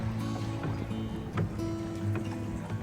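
Rowing boat moving on the lake at Yelagiri, soft water lapping and knocks of the oars under a steady low hum, with people talking nearby.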